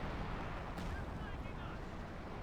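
Artillery strike landing in Company of Heroes 2, a dense, continuous rumble of distant shell bursts and booming blasts that stays loud and sustained throughout, with a brief sharper crack near the start.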